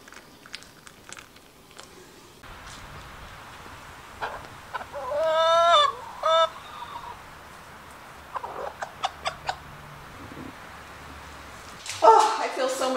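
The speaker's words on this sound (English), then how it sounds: "my chickens play around in the backyard." Backyard chickens clucking outdoors: scattered soft clucks and a few louder squawking calls come and go at moderate distance over quiet ambient noise, with a brief burst of noise near the end.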